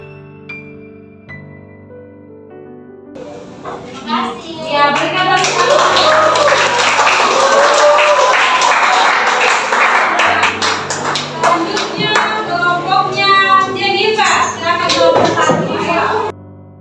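A class applauds in a sustained burst of clapping that rises and continues for several seconds, with a few voices mixed in.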